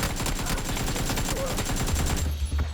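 Rapid automatic gunfire from an AKM rifle in an online shooter game, a dense rattling burst of shots that fills the whole stretch, loud and close, with a brief quieter tail at the end.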